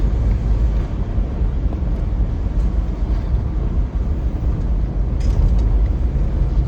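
A 1998 Ford Ranger flare side pickup with a 5-speed manual and 25k miles cruises through a neighborhood, its engine and road rumble a loud, steady low drone heard from inside the cab without talk.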